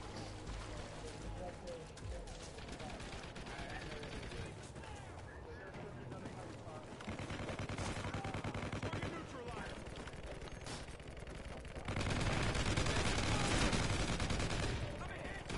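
Sustained light machine gun fire in a Call of Duty match, dense continuous bursts that swell louder toward the end, with players chatting over the shooting.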